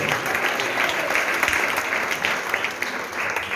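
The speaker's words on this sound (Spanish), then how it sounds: "Dale un aplauso fuerte al Señor." Sustained applause from a church congregation during a worship service, many hands clapping densely and steadily at moderate volume throughout, with no pauses.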